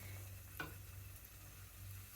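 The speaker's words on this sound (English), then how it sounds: "I'm not pan frying, I'm shallow frying" Green tomatoes shallow frying in about a centimetre of oil in a pan, giving a steady low sizzle with a brief sharper burst as a piece goes in, fairly quiet and without talk.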